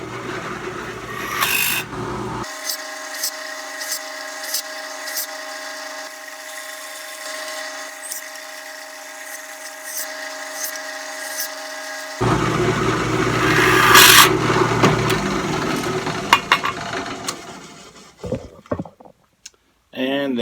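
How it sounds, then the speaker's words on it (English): Drill press boring several holes in a metal can for a bee smoker grate, a steady whirring grind broken by rasping, scraping bursts of bit against metal, with speech at points. "What I'm going to actually do is drill several holes in here"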